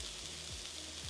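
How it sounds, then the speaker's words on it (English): Vegetables softening in rendered sausage fat for a Thanksgiving dressing, giving a soft, steady sizzle with a couple of faint scraping stirs, fairly quiet and with no voices. "We're gonna saute this for about 5 to 7 minutes until our veggies are softened."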